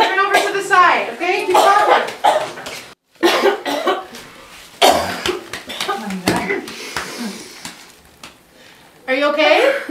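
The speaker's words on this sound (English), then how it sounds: "Keep coughing, keep coughing." Repeated harsh coughs burst out close by during an airway obstruction, mixed with a voice and adult talk, with short pauses between fits.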